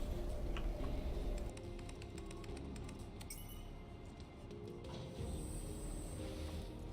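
Quiet, steady typing on a computer keyboard, rapid light key clicks and ticks over a rumbling background, no talk.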